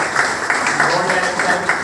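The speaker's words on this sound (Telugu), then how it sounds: "Big round of applause." An audience at a celebration day event applauds in a rhythmic, steady clap, with loud, even bursts repeating alongside a voice speaking over it.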